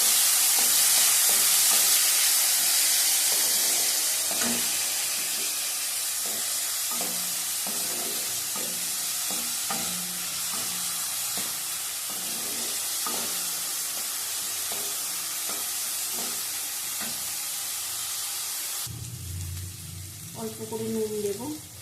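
Chopped onions frying in a pan give a continuous close sizzle with repeated stirring scrapes; near the end the frying gives way to water running at a tap, and faint voices come through in places.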